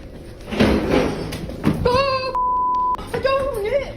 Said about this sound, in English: They hear something bang against the door.